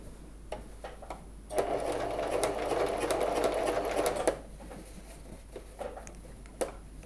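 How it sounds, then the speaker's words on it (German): Sewing machine stitching a jeans fly, a steady loud whir of stitching for about three seconds, framed by scattered ticks and clicks of handling before and after. "ein paar Stiche waagrecht hinübersetzen und hinunternähen, parallel zu dieser Naht hier."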